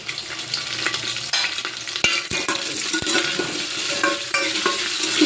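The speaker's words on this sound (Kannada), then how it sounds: "ನೋಡಿ ಇವಾಗ ಒಗ್ಗರಣೆ ಮಾಡ್ಕೊಳ್ಳೋಣ." Mustard seeds, cumin, dried red chillies, curry leaves and garlic sizzle in hot oil as a tempering for festival sambar, a continuous close crackle broken by a few sharp pops and clicks of the spoon.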